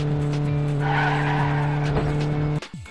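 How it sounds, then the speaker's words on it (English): A steady, loud engine drone from an ambulance in an Android mobile game, holding a constant pitch throughout, then cutting off abruptly near the end. "The engines on this ambulance still sound like it's flying."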